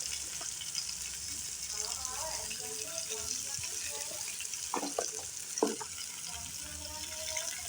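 Onions and garlic fry in hot oil in a pan for pasta, giving a steady, fairly quiet hiss with a few brief stirring clatters and scrapes near the end.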